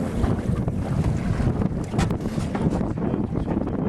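Steady rush of wind over a sailboat moving off Sainte-Maxime, with broadband water and hull noise churning continuously throughout.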